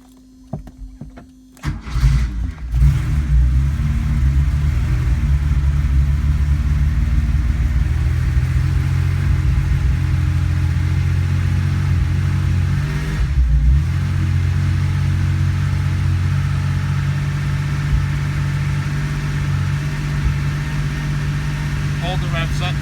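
An engine on an older Porsche 911 or 944 catches after a brief crank, then runs steadily with the revs held up as a loud, continuous rumble close by, dipping briefly midway. Voices speak over it.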